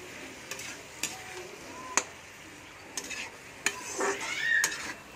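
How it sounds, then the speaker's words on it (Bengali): A spoon stirs vegetable curry in a pot, with scattered metallic clinks and taps against the side, then a few seconds of scraping toward the end, close by and moderately quiet, with no talk. "তরকারিটা ভালো করে মিক্স করে নেব"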